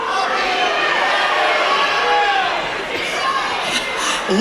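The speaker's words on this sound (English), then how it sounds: "I hear the crowd shouting stuff out" A convention panel crowd shouts out and chatters all at once, a loud continuous wash of overlapping voices with occasional raised cries.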